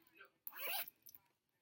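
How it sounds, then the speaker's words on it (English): A zipper on a handmade fabric bag zips quickly once, close and quiet, with brief talking around it. "And it's a zipper."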